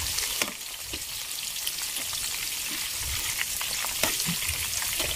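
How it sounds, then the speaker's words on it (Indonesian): Chili peppers and tomatoes fry in hot oil for Indonesian sambal terasi, giving a steady close sizzle broken by sharp crackles and pops, with no voices. "Nah, sekarang aku udah mulai menggoreng cabai-cabiannya dan tomat."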